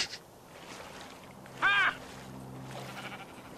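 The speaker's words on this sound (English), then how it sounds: "Oh, it's a sheep." A single short sheep bleat from Minecraft Story Mode, clear and fairly close, set against a quiet low hum.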